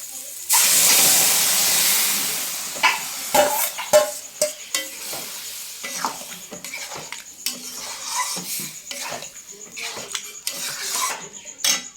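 Spices for Kolkata-style ghugni are stir-fried in a pan: an initial loud sizzling hiss fades under repeated sharp metallic clanks and scrapes of a spoon against the pan, close and irregular.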